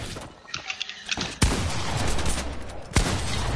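Video game gunfire rattles as a dense fusillade of close shots, with two sharp louder cracks standing out amid continuous crackling and rumble.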